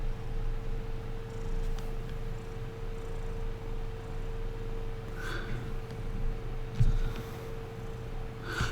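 A house cat purrs in a continuous soft, rhythmic rumble close by, with a faint snort near the end and no talking.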